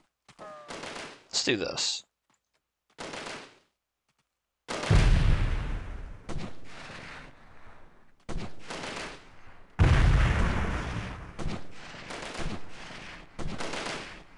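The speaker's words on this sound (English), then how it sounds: "They're all shooting at me" Gunfire in the shooter game Delta Force comes in loud bursts and rapid volleys separated by short silences, with a brief spoken line near the start.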